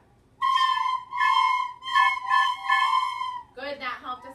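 A class of fourth-grade children plays recorders softly together, a sustained gentle whistle-like tone in held notes with short breaks, ending in a brief changed phrase.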